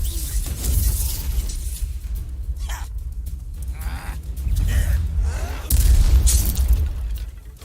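Spell blasts from the video game Hogwarts Legacy during a wizard duel: a steady, loud rumbling barrage of booming impacts and crackling bursts, swelling heavier near the end.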